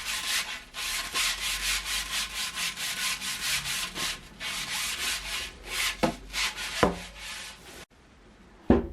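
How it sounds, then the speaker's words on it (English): Steady back-and-forth sanding of a flamed wooden polearm training staff, a continuous close rasping rub lasting several seconds, with a few scraping strokes near the end before a brief pause and a final bump. "After it, we sand it a bit."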